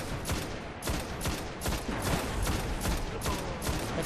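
Rapid bursts of gunfire in the Destiny video game, sharp repeated shots coming in quick clusters across the whole stretch, loud and close with no talking over them.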